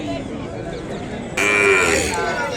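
A heavy, sturdy calf at the Kodad cattle market gives a loud, close moo that swells partway through, over a low background hum of the market.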